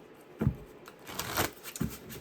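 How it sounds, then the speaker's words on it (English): A deck of playing cards is shuffled a few times, giving several quick riffling bursts close by with short pauses between and no speech. "Let me shuffle a few times."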